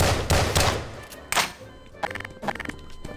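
Gunfire in the Garry's Mod DarkRP video game: several loud, sharp bursts of shots in quick succession, with clusters of rapid cracks near the end, no voices over them.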